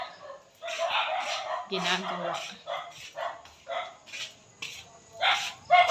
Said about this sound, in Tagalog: ang ingay-ingay ng aming mga aso sa labas